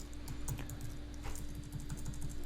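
Computer keyboard typing while working in Rhino 3D software, a quick run of close, light key clicks in a steady rhythm over a low room hum.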